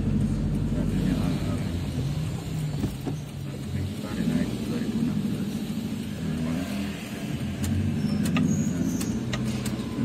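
Daihatsu Grand Max van with a tuned Blackcore setup climbing and descending steep hills, its engine droning steadily and loudly throughout, with people talking over it inside the cabin.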